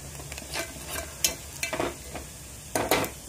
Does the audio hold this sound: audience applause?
no